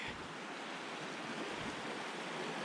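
The South Fork of Sheep Creek flows in a faint, even rush of water, a continuous distant-sounding wash without speech.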